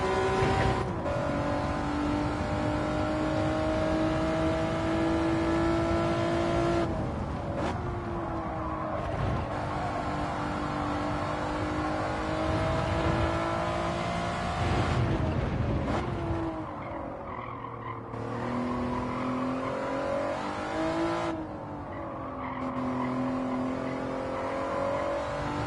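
Honda NSX race car in Gran Turismo 7 at Interlagos, its engine droning loud and continuous with rising and falling revs as it shifts and corners, plus brief tyre-slide noise, no voices.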